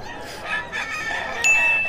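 A rooster at a fowl sale in Bocaue crows loudly and close by, one drawn-out call with a brief raised note near the end.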